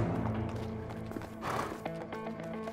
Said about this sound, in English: There are the horses.